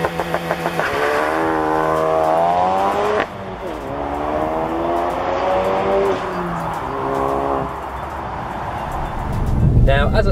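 A Ford Focus RS hot hatch doing a launch control start, the engine holding a buzzing rev-limited note before the launch, then climbing in pitch through several gear changes as it pulls hard, loud and close, with a brief burst of noise at the end.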